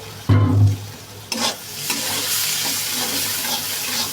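Egg scrambled with onion and garlic in a pan: a loud clatter opens, then a continuous close sizzle with spatula scrapes and stirring taps as the mixture is worked around.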